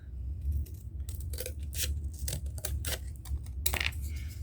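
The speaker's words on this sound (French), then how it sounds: "je sors le grand ciseau" Large scissors cutting through thick recycled card for a Christmas card, a close series of crisp, irregular snips and crunching slices with brief pauses between cuts.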